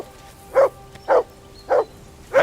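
A dog in the video game Kingdom Come: Deliverance II barks four times at an even pace, each bark a short, sharp woof with quiet gaps between.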